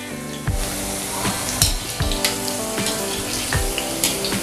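Cauliflower florets for gobi 65 deep frying in hot oil over a medium flame, a steady crackling sizzle mixed with background music and its regular thumping beats.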